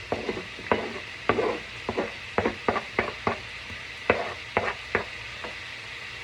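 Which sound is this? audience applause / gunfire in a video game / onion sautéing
onion sautéing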